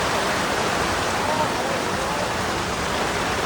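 Heavy rain pouring on a Hong Kong street, a dense, even hiss with no breaks.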